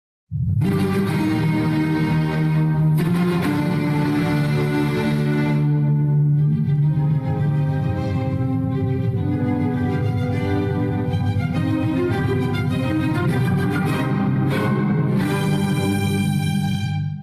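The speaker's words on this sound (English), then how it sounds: "This is that choppy, stormy minor key melody." A full orchestra plays a choppy, stormy, agitated minor-key melody from Beethoven's Fifth Symphony, with sharp accented bursts and sustained string lines, loud and dense throughout.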